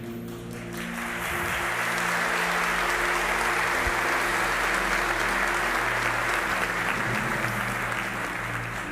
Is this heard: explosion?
no